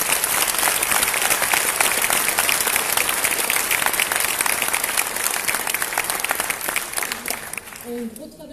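A crowd at a 2019 New Year's greetings speech applauds loudly and warmly, a thick continuous roar of clapping that stays strong throughout before thinning and fading near the end, with a voice briefly emerging.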